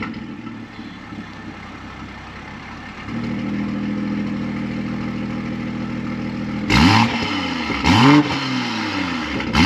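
A BMW car engine, either a G42 M240i or G87 M2, idles steadily close by, then climbs to a higher drone and is blipped in two short, sharp revs near the end, loud with no talk.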